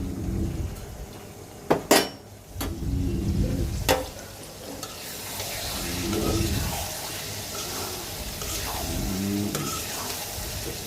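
Curry with green chilies and peas being sautéed in a pan, with loud metal spoon clanks early on, then a continuous sizzle and repeated scraping stirs nearby, no voices.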